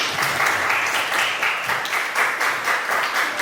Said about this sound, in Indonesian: berikan aplaus untuk kelompok pertama